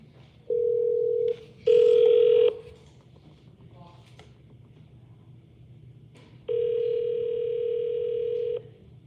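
Outgoing phone call ringback in clear repeated electronic tones: a short beep, a longer burst, then a sustained tone after a gap, over a faint low hum with no talking.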